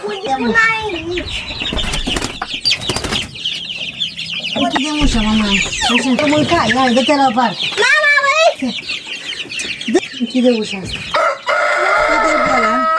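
Chickens cluck and squawk close by, with a rooster crowing and brief wing flaps; the clucking runs almost continuously and fairly loud.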